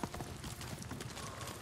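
Horse hooves clip-clop in Ghost of Tsushima, a quick steady run of faint, close hoofbeats over muffled game ambience, with no voices.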